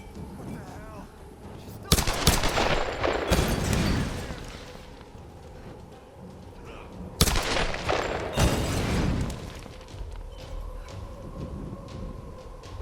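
Gunfire in Tomb Raider (2013), two loud bursts of automatic shots with booming echoes that die away, separated by a few seconds of rumbling ambience.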